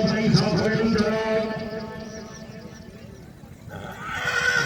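A horse whinnies in a long, harmonic call at an outdoor tent pegging event in Jhelum district, with crowd and voice noise around it.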